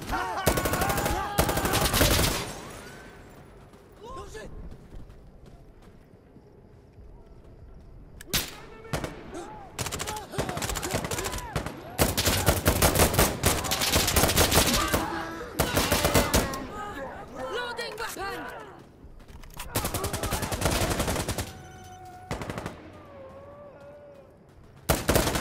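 Loud, close bursts of automatic gunfire in the shooter game Insurgency Sandstorm, with rapid rattling volleys and single shots repeating in clusters and brief lulls between them.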